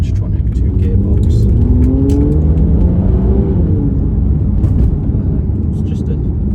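The 5.9 V12 engine of a white 2014 Aston Martin DB9 Carbon Edition Coupé revs and growls through its exhaust in one steady, loud run, with rising and falling engine tones clearly audible.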